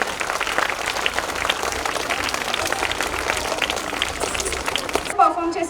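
An audience at a school anniversary program applauds at length, dense continuous clapping filling the hall with steady intensity, which cuts off abruptly near the end.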